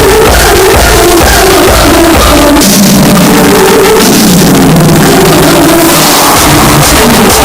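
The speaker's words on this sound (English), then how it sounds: "Hands together, everybody, for Simran." An award-ceremony audience applauds and cheers loudly for a winner, a dense continuous roar of clapping and shouting heard close.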